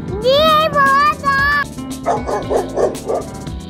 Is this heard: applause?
no